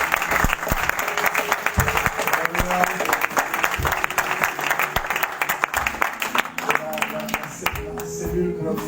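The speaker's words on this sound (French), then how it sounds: "Ceux qui nous rejoignent, on les applaudit." A church congregation at an evening service claps loudly and continuously in welcome, dense applause mixed with voices and a shouted exclamation.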